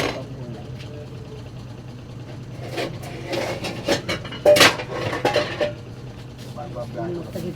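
A lid set down over a pot of simmering vegetables, squash and eggplant in coconut milk with tofu, gives a few metallic clinks and clatters close by amid kitchen bustle and a low steady hum.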